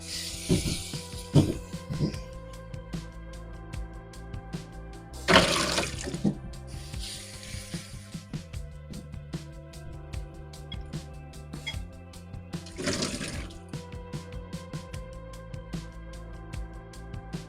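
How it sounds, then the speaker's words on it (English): Trimmed broccoli florets rinsed under a running kitchen tap: steady splashing water with louder gushes as the stream shifts, close and alone, with no talking. "So I'm just gonna rinse them off really quick over here."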